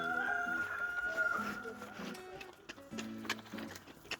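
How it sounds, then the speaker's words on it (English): Chickens cluck and crow around a farmyard feeding spot after rain, their calls fairly close and fairly steady amid other bird and barnyard noise. "Look, the chickens are cleaning up."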